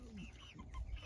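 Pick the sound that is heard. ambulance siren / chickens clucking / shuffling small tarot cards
chickens clucking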